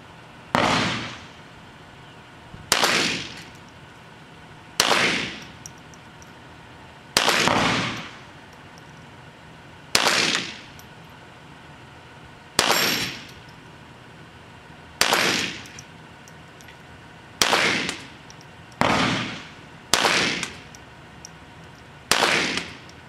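Single shots from a Smith & Wesson Victory pistol fired at an outdoor range, about ten sharp cracks spaced a couple of seconds apart, each loud and followed by a brief fading echo.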